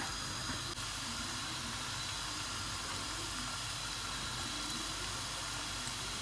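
Steady sizzling hiss of quail eggs frying in a hot pan, continuous and close, with no voices.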